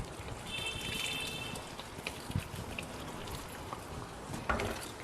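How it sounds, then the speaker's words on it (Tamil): Tamarind water is poured into a simmering ivy gourd (kovakkai) gravy, making a close, continuous splashing trickle with a few louder drips and clinks. "இப்போ இதில் புளி தண்ணியும் ஊற்றிக்கலாம்."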